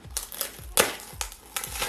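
Large cardboard box holding a shipped plant being ripped open by hand, with repeated sharp crinkling tears and crunches in short bursts, the loudest rip near the middle, close and alone.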